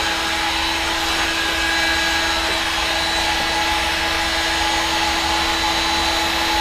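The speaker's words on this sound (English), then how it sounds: "turn our heat gun on, let it heat up a bit" A heat gun blows steadily while it warms up for heating PVC pipe, giving a constant airy roar with a fixed whine under it. It runs close and unchanging, with no talk.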